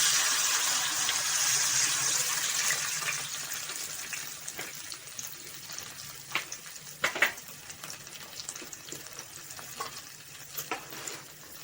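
Vinegar is poured into a hot pan of fried garlic for a Koorka pickle, and it sets off a loud hissing sizzle. The sizzle fades into softer bubbling broken by scattered crackles and pops, with no voice.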